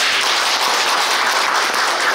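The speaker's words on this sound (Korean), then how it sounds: "우리가 한 번 한 번 소개할 때 큰 박수 좀 부탁드리겠습니다" Sustained audience applause at a volunteer group event in Korea, a dense steady wash of many hands clapping, loud and continuous throughout with no talk over it.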